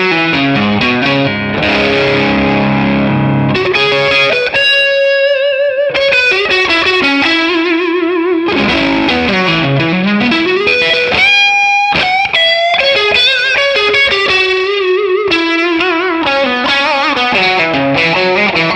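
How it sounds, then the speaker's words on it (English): Overdriven electric guitar through a ToneX overdrive pedal model with added reverb and delay, playing a melodic phrase of sustained notes and chords that ring out with echo trails, loud and continuous with no talking. "Let's add some reverb and some delay for some flavor."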